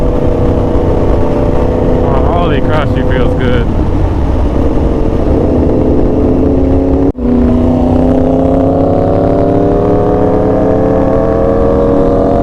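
A vehicle with two cross-plane engines and a newly fitted, freer-flowing exhaust revs loudly and up close, pitch climbing steadily with a brief gap mid-way, while someone speaks excitedly over the roar.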